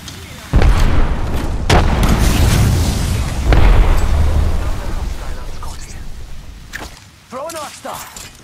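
Grenade blast in an online shooter game: a loud booming explosion erupts near the start, followed by further heavy booms and rumbling gunfire-like bursts, with game voice lines spoken over the chaos.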